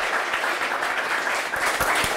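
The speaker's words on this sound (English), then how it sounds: "round of applause for yourselves" An audience at the North Tea Power cafe in Manchester applauds, giving a brief, steady patter of clapping heard fairly close, with no talk over it.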